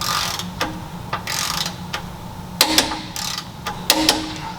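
A torque wrench tightening suspension nuts to 81 foot-pounds on a Lexus GX460 fitted with Elka suspension, giving sharp, separate ratchet clicks in small bursts over a steady low mechanical background, close by with no talk.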